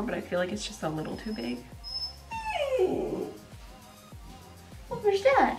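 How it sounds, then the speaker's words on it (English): A small dog whimpers and yelps in high, wavering cries, close by, while a person keeps talking over it. "Sorry about my dog."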